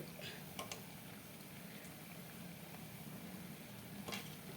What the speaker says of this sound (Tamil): கச்சாயத்துக்கு எண்ணெய் காஞ்சிட்ருக்கு பாருங்கள்.